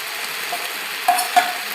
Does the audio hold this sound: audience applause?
no